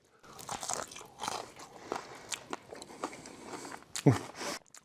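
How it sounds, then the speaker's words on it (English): Crunchy homemade oil-fried chicken wings being bitten, a few sharp crisp crunches followed by chewing, close and fairly quiet with a little talk in the background. "I'm gonna eat one, just so you can see that they do have crunch on every single bite."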